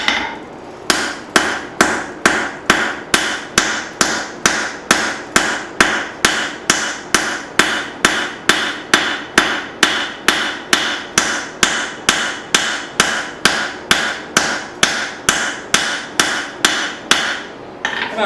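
Straight peen and cross peen hammers strike hot steel while forging an axe hatchet, a long steady run of sharp, evenly spaced ringing blows close by, roughly two per second, with no talk.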